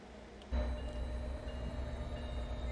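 A short train on the Boston route in Train Sim World 2 rumbles and hums steadily after a sudden onset, with continuous low rolling and mechanical drone and no talking.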